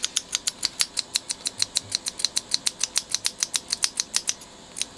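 Small relay switch on a Beocord tape recorder, freshly lubricated, clicking rapidly and evenly in a long close-up series of sharp ticks with no voices.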